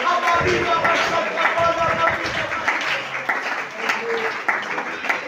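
A church congregation applauds during a Sunday school sermon, steady dense clapping mixed with scattered voices and cheers throughout, fairly close and lively.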